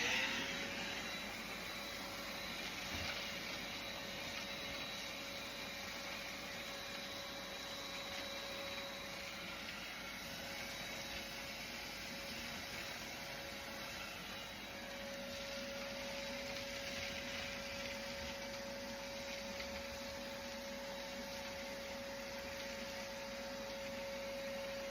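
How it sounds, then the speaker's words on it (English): A shop vac runs continuously at a steady, even drone with a constant whine, close by and unchanging for the whole stretch, with no talking. "Then I have a shop vac here."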